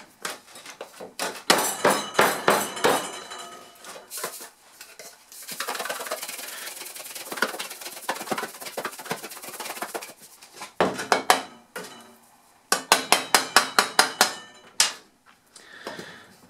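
Iron and sulfur powders shaken together in a lidded container: rhythmic bursts of gritty rattling and rubbing, a longer continuous swirl in the middle, then more quick regular shakes separated by short pauses, close and fairly loud.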